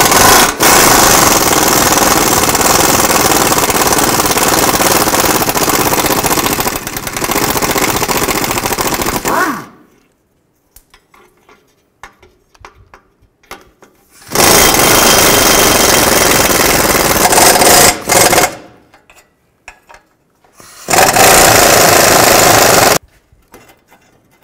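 A power tool fitted with a 12mm socket zips off the exhaust flange nuts on a 2008-2012 Ford Escape during catalytic converter replacement. Three loud, close, rattling hammering bursts, the first long and two shorter, are separated by near silence.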